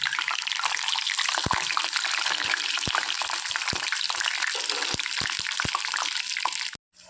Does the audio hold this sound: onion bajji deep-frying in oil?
yes